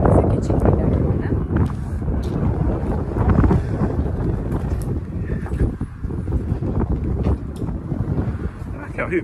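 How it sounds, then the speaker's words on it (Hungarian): Wind blows hard outdoors in the countryside near a Buddha park on a chilly day, roaring continuously and close against the microphone with gusty rumbling surges, while people talk underneath. "Hát fúj a szél."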